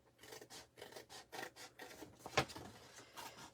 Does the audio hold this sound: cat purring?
no